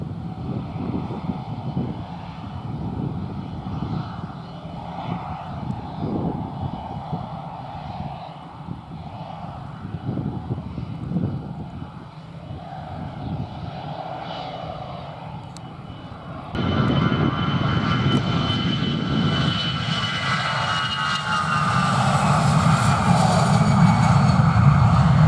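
easyJet jet airliner at London Luton airport on a windy afternoon, a distant engine roar that swells sharply partway through into a loud, rising whine and rumble as the aircraft powers up, with wind noise underneath.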